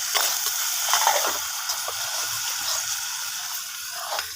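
Two garlic cloves frying in oil for a fish curry, giving a steady close sizzle and hiss with small bursts of crackle throughout.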